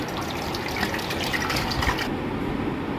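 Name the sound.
water poured into a cooking pot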